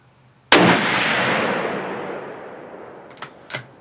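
A single loud, sharp rifle shot from a Savage 110 Desert Tactical cracks out and rolls away in a long echo, followed a few seconds later by two faint clicks.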